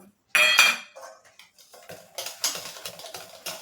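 Cake batter for a mango tea cake, with ground semolina added, is mixed in a bowl: a loud clink of a utensil on the bowl, then a run of quicker scraping and tapping strokes.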